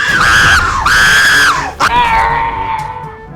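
People screaming loudly at close range in a tank warfare game, several drawn-out high-pitched shrieks that break off and start again, with one short sharp cry between them.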